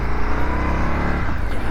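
A 2023 Indian FTR 1200 Carbon R motorcycle engine revs up close, a loud, steady throbbing roar with fast chugging pulses that settles slightly toward the end.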